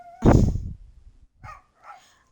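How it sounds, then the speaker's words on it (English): A dog barks loudly once nearby, a sharp burst followed by two fainter, shorter yips or whines, with no talk. "Who are you barking at?"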